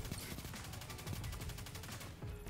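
Rapid automatic bursts from a submachine gun in the shooter game Destiny 2, a tight rattling stream of shots at high fire rate, loud and continuous with a brief break near the end.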